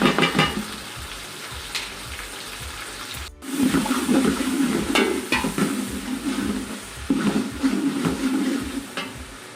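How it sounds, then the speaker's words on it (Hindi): Spices, ginger, green and red chilies, vinegar and ground cumin hit a hot pan, setting off a loud burst of frying sizzle that swells and settles, with occasional utensil scrapes. "इसको अच्छे तरीके से फ्राई कर देंगे। इसके अंदर अपने बाकी मसाला जार डाल देंगे, अदरक, सब्ज़ मिर्च, लाल मिर्च, सिरका"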